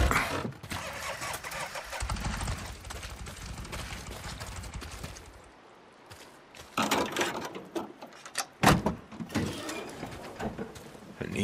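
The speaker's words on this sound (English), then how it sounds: "Engine crapped out." A motorcycle engine in Days Gone sputters and fails to start, rough cranking and coughing bursts, then stuttering attempts and clunks after a pause, close and loud amid outdoor game ambience.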